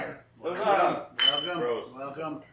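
Shot glasses of Captain Morgan Cannon Blast spiced rum clink together in a toast, a brief bright ring in the middle of loud voices.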